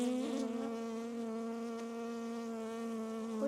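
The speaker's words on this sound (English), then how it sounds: "There's definitely a bee in my veil." A honeybee trapped inside a beekeeper's veil gives a steady, close, droning buzz that holds a constant pitch throughout, loud and alone.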